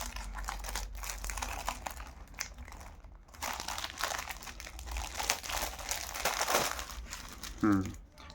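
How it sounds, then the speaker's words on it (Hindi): A Raj Comics comic book package with postcards being opened up close, its paper crinkling and rustling continuously for several seconds, with brief quiet gaps. "मैं आपको ओपन करके दिखाता हूँ।"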